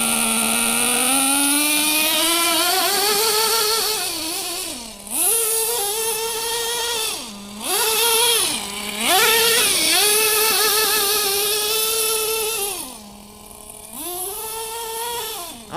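An old truck engine, warmed up after years of sitting, drives off and revs in repeated surges, its pitch climbing and dropping with brief lifts off the throttle, loud and close with no talking.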